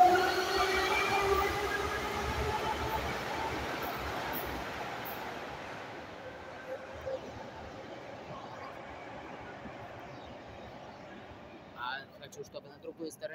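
A metro train rumbles past nearby at Palats Ukraina station, loud at first and then fading as it moves away, with faint clacks and brief noises near the end.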